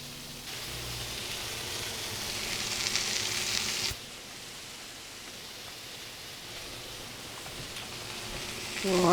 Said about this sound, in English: It says to saute them until golden brown and then turn over and do it again